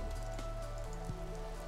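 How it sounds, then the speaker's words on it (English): Rain falling in the Minecraft video game, a faint steady patter over low sustained tones from the game, with no talk. "Stop it from raining, hold on."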